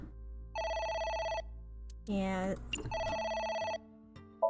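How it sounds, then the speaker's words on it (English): Telephone rings sound in the video game AI: The Somnium Files as two bursts of bright electronic trilling separated by a short gap, with a voice speaking briefly between them. "Oh, It's the phone."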